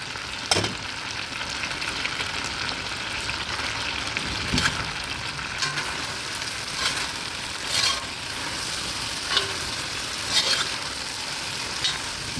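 Fresh mushrooms fry in a pan while Cantonese chicken is cooked, giving a continuous loud sizzle broken by periodic scraping stirs.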